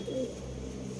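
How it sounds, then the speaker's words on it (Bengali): A male pigeon coos in a home loft, a low soft burbling call near the start, close by over a steady low hum. "এটা হচ্ছে ওনার নর পায়রাটা"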